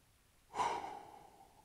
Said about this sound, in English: when I breathe in, I'm creating that pressure through the core and through the stomach